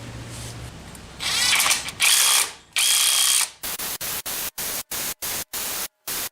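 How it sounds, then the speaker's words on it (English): An impact wrench driving on a timing belt pulley bolt: a few longer harsh bursts followed by a rapid series of short, evenly spaced hammering blasts, loud and close. "I just went ahead and impacted it on"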